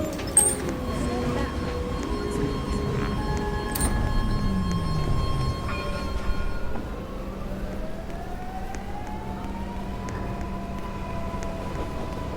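A B subway train rolls along its rail line, a steady rumble with rising and falling tonal whine from the motors as it moves between stations, a continuous mid-loud ride with a brief chime near the start.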